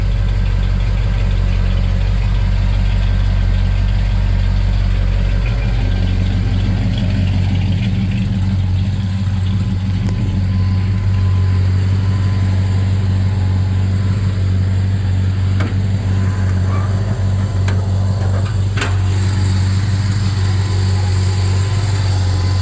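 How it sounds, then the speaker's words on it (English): Steady, loud low-pitched drone of a 1971 Ford F250 idling with its air conditioning compressor engaged, holding an even running tone throughout with no talk. "Compressor running."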